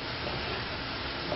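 Potatoes and offal frying in a pan for a traditional Easter freixura dish, a dense, steady sizzle crackling close and loud with no pauses.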